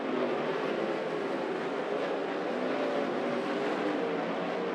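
360 sprint cars racing under the lights at Grays Harbor dirt track, a steady, loud engine roar from the pack with droning high revs that hold without a break.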